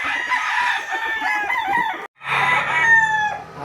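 A gamecock rooster crows loudly and close by, giving two long cock-a-doodle-doo calls separated by a brief silence, with no talk over them.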